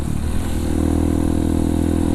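A Honda CRF supermoto motorcycle with a stock engine and clutch runs while riding, a loud, close, steady engine drone with a throaty rumble and light clatter, no voices over it.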